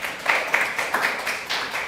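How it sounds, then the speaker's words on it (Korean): Church congregation applauding during a Korean Sunday worship service, a short burst of steady, fairly loud clapping without speech. "하나님께 영광의 박수를."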